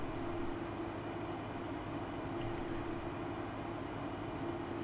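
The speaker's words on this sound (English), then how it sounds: "Trains, if you're close to the train tracks." A train rumbles past near the tracks on a seaside farm map in Farming Simulator 15, a steady low drone with a faint hum, quiet and continuous with no voices.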